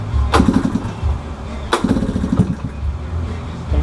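A Honda ATC110 three-wheeler's small engine fires for the first time, with two sharp cranking bursts that each catch into a brief, uneven putter before fading, heard up close.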